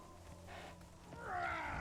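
A cat creature's growl or snarl from the survival game Conan Exiles, a rising tonal cry swelling louder toward the end over a low steady game ambience.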